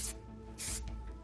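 Two short bursts of aerosol hairspray hiss close by, the second longer, with a quiet pause between them.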